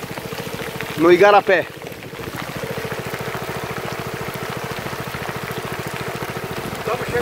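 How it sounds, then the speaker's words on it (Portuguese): Heavy rain pouring onto a boat on Lago Amanã in the Amazon, a dense, constant hiss with a low, rhythmic motor-like pulse running beneath it, and someone briefly speaking early on. "Agora a chuva aumentou para valer."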